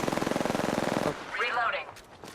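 Rapid machine-gun bursts from a video game battle royale match, loud and close with a steady stuttering rhythm for about a second, then cutting to a quieter whooshing effect.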